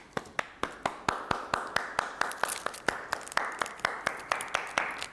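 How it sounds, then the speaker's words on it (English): A few people clap for a guest introduced on a colouring show with illustrators, the sharp individual claps coming close and steady in a fairly sparse rhythm for about five seconds. "can I just give her a big round of applause?"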